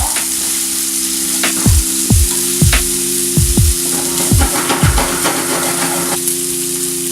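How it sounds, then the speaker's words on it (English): Onions sizzle and crackle steadily in a hot pan, with a constant hiss and occasional thuds of stirring, loud and close. "What is better than frying up some onions?"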